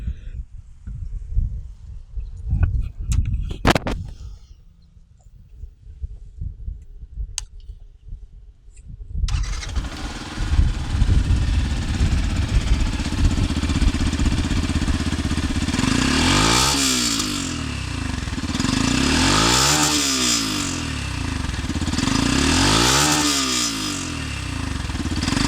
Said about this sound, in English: The exhaust of the motorcycle is really bassy.